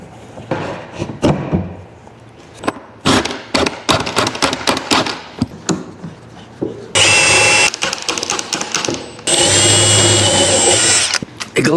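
A power drill drives 30mm screws into a glued school bus interior panel in two loud, sustained whirring bursts, preceded by handling knocks and clatter, close up and with no talk.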